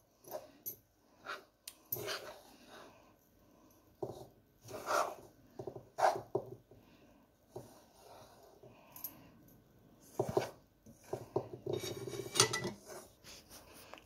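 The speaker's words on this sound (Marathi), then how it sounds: "आता दाण्याची पूड घालूया, हे सारखं करून घ्यायचं।" Ground peanut powder being stirred into a tilgul mixture in a bowl, giving scattered scraping and clinking of a utensil against the dish in uneven bursts, close and fairly quiet, with no talking.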